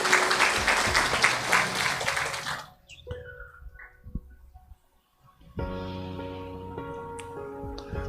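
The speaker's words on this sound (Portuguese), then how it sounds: "Vamos dar uma salva de palmas para Jesus" A church congregation breaks into loud, full applause for Jesus during a sermon. It fades out after a few seconds, leaving a quiet gap before soft sustained music and ambient sound rise.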